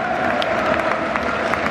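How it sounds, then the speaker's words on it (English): Steady applause from a large football stadium crowd as the teams come onto the field, a dense wash of clapping with scattered cheers, continuous and loud throughout. "Round of applause around the stadium."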